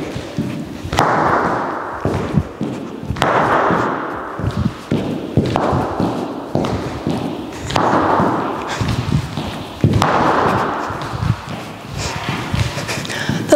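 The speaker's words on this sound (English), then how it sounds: "when my toe hit the ground, that was the loudest bang I've ever heard in my life" Pointe shoe toes striking a hard floor during Italian fouettés, repeated loud thuds and bangs in a steady cycle about every two seconds, close and sharp with scuffing between hits.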